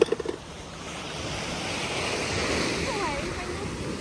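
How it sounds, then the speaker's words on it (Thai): Sea waves splashing onto a beach in the evening, a steady close rush of surf with wind noise on the microphone, preceded by a few brief knocks at the start. "คือ คลื่นมันก็สาดแบบนี้แหละ"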